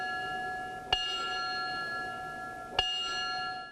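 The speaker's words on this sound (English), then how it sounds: "To conclude the ceremony, a bell was sounded 3 times, presenting the last alarm to those fallen going home." A ceremonial bell honoring fallen firefighters rings out in sharp, ringing strikes, two clear clangs heard here with long, shimmering decay between them, alone with no talking.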